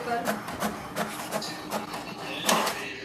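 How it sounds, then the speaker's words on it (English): An HP DeskJet 4252e inkjet printer printing a test page, heard close up as a quick series of rhythmic mechanical swishes and clicks from the print carriage shuttling back and forth at a moderate level. "So let's print a test page."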